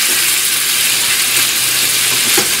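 Chicken sizzles steadily and loudly in a hot frying pan while it is stirred, a continuous hiss with faint scraping and no talking.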